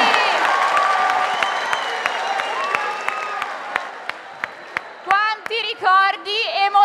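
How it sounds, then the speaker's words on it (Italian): An audience at a 2023 summer youth camp staff presentation claps in crisp, scattered beats after a song fades. Lively cheering and children's shouts then burst in near the end. "Fatevi un applauso!"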